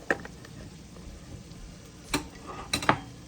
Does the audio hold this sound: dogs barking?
no